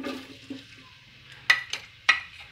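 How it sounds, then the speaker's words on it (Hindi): Chopped onion dropped into hot mustard oil, giving a soft sizzle with a few clattering spoon knocks against the pan, quiet and close, no voices. "अब हम इसके अंदर एक बड़े साइज़ की प्याज कटी हुई डालेंगे।"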